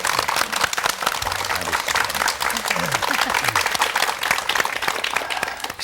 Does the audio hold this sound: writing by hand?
no